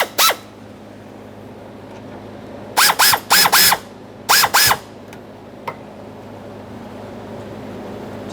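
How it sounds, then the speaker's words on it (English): A ratchet with an 8mm socket works the fuel hose clamps on a 1992-1996 Toyota Camry fuel tank filler neck, giving four short, sharp ratcheting bursts in a row against a quiet background. "I'll be using a 1/4" socket, and I'll also be using an 8mm socket for these clamps"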